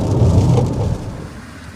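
Rain falls on a car driving through northern Spain, a dense steady hiss that is loudest for the first second and then eases to a softer, thinner patter.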